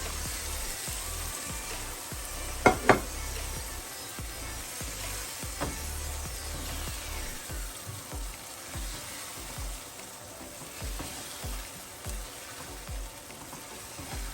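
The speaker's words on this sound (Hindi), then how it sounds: "तो अब मैं इसके अंदर डालने लगी हूँ आलू।" Boiled, chopped potatoes fry in a pan with a steady, faint sizzle throughout, broken by a couple of sharp clicks early on.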